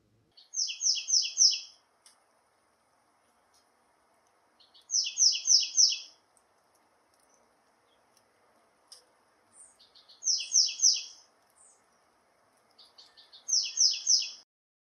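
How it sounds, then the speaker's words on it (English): A small songbird in Southern California sings four short, bright trilled phrases spaced a few seconds apart, recorded through an open window, with a faint steady insect hum beneath. "suddenly I heard a delightful little bird, one that's similar but different from where I live"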